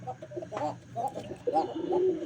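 Pigeons coo in soft, repeated throaty calls, close and alone, several overlapping phrases within a couple of seconds.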